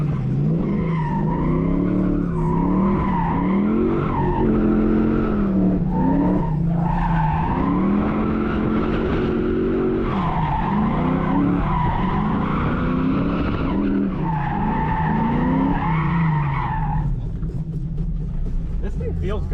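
A Dodge Challenger RT drifts with loud, sustained tyre squeal rising and falling through the slides over a constant engine roar, recorded from inside the car.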